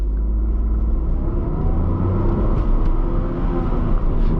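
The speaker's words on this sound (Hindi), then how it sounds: "अब मैं इसको 2200 तक रेव करने वाला हूँ, उसके बाद मैं इसको लॉन्च कर दूँगा" A Tata Tiago hatchback launching from rest in city mode, its engine a loud, steady close-up drone inside the cabin with low rumble throughout, rising as the car pulls away, no speech.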